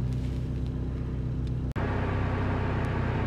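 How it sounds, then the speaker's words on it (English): A modified 1985 VW Golf GTI Mk2 hot hatch rumbles steadily from inside while driving, a constant low engine and road drone with harsh vibration, broken by one brief dropout midway. "this thing just shakes and vibrates like no other car"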